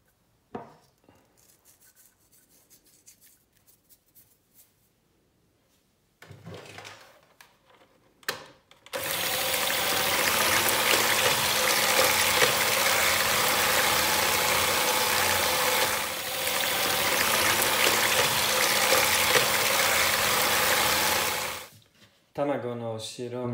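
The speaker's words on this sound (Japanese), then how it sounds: "メレンゲを作るためにハンドミックスで卵の白身を白くて硬くなるまで、" An electric hand mixer whips egg whites with a pinch of salt into stiff meringue, a steady loud whirring drone running about thirteen seconds with a brief dip midway, preceded by quieter kitchen sounds and ending abruptly.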